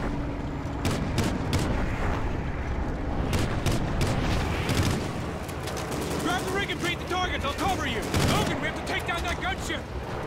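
Rapid bursts of gunfire from the video game Call of Duty: Ghosts crackle continuously over a dense, loud battle mix, with repeated sharp shots throughout and a voice talking over parts of it.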